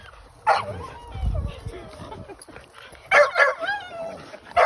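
Dogs bark and yip in short bursts, with excited human voices talking over them at close range.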